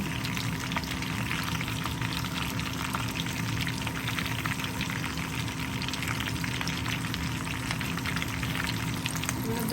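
Chicken fingers fry in hot oil with a steady, dense sizzle and crackle that runs unbroken throughout, close and even in level, with no voices.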